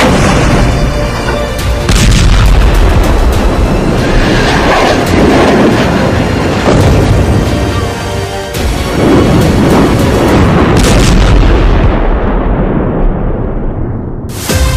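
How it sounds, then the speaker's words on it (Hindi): Rumbling, booming blasts from rocket explosions over Haifa during the Israel–Hezbollah war, a loud, continuous barrage with sharp impacts near 2, 7 and 11 seconds, dense low roar throughout. "हिजबुल्लाह आर्मी ने हाइफा में रॉकेट धमाके की झड़ी"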